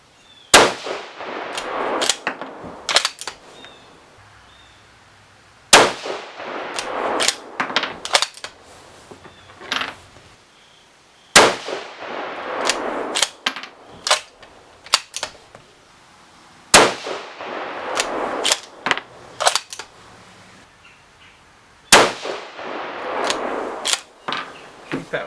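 Rifle shots from a 6mm Creedmoor loaded with H4831SC powder and fire-formed brass: five sharp, loud reports spaced about five seconds apart, each followed by a brief ringing clatter that fades into quiet.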